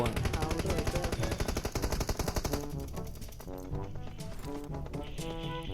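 Automatic gunfire rattles through a PUBG Mobile match as dense, rapid bursts of machine-gun shots, loud and continuous, with thinner scattered shots toward the end.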